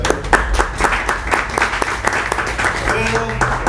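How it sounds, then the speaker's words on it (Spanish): A live audience at a small jazz trio concert applauds the guitarist, with sharp, close hand claps in a quick irregular patter and a voice speaking near the end. "Un aplauso para él."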